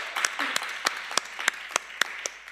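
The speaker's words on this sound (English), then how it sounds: "big round of applause for Emily there" A small round of applause for a finishing participant at a livestreamed after-party, a few sparse, near claps spaced out over light background noise.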